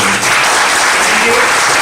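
An audience at a mega training event in Orissa breaks into loud, dense applause, a steady roar of clapping that fills the whole moment without pause.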